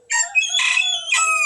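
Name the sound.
rooster crowing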